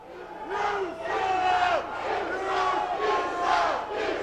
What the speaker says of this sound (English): Crowd voicing their opinion of this situation.